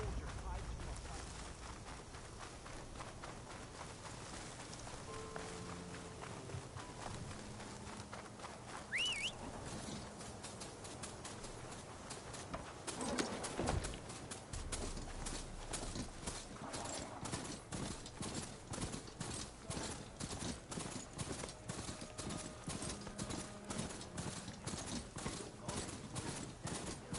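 Hoofbeats of a ridden machine mount in Horizon Forbidden West, a steady, rapid clip-clop rhythm that fills the second half, with game ambience, birdsong and a voice talking earlier.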